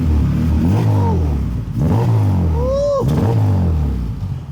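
A modified Honda Del Sol or EK sedan engine revs up in several rising and falling pulls, loud and close, with a deep rumbling exhaust tone.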